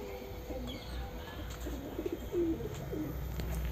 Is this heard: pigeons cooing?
yes